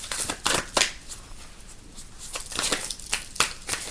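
A deck of cards is shuffled repeatedly up close, with sharp riffling bursts in an uneven rhythm and no talk.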